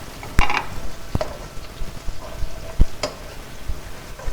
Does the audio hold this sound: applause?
no